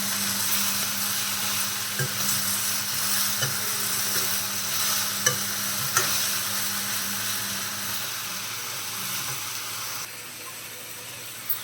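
Butter chicken curry ingredients fry in a pan with a steady, broad sizzle and a low hum. Occasional scraping stir clicks rise over the frying, and no one talks.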